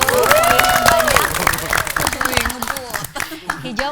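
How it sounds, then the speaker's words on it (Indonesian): Brief clapping from a small group on a TV quiz show rises under loud, excited talk and chatter, fading out within a few seconds. "Wow, tepuk tangan dulu."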